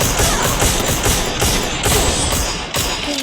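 Gunfire in a video game shooter, repeated loud bursts of shots and thuds in quick succession, dense and close with no pauses.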